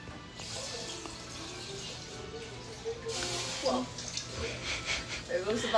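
Water splashes and trickles into a container over steady background hiss, with faint voices nearby.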